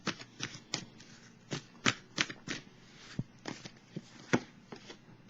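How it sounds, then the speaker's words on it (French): A tarot card is drawn from the deck with a series of crisp, close-up card snaps and slides, a dozen or so sharp papery clicks spaced irregularly over a quiet background, with no talking. "Je vais piger une autre carte."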